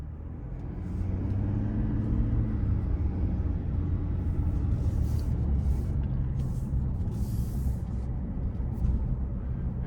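A 2025 Chevy Tahoe RST with the Duramax diesel and 10-speed transmission cruises on the road, a steady low rumble of engine and road noise heard from inside the cabin that holds level throughout, with no talking.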